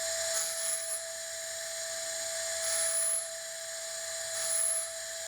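A Nakanishi Emax EVOlution micro-grinder spinning at 40,000 RPM with a burr deburring stainless pipe edges makes a steady, thin, high whine, with brief brighter grinding swells as the burr bites, close and alone.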